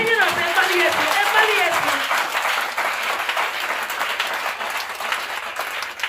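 A church congregation applauding and cheering at a Friday sermon, steady clapping mixed with shouts and a few raised voices near the start, continuing at an even level throughout.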